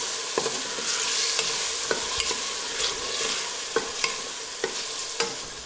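Urad dal masala is stirred in a frying pan, with a spatula scraping and tapping in a steady rhythm of about a dozen strokes over a continuous gentle sizzle, close by.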